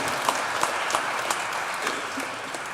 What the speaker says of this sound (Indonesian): Kita beri aplaus untuk mereka, semangat, kornya bagus.